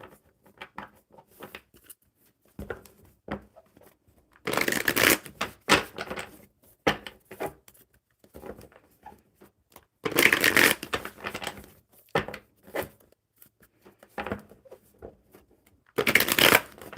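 A deck of cards being shuffled close up, three loud riffling bursts at intervals with softer card handling, taps and shuffles in between, no voices.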